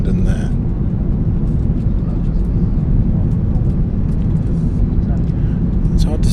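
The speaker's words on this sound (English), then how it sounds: "they're letting more air in so that the plane descends" Steady, loud cabin drone of an airliner descending toward Heathrow over London, a broad low rumble that holds constant throughout with faint voices murmuring beneath it.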